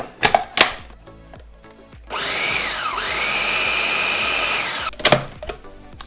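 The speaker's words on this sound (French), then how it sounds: "on va les mixer." An electric blender purees cooked pumpkin pieces in a steady motorized whir lasting a few seconds, its pitch dipping once and recovering, between handling clatters before and after.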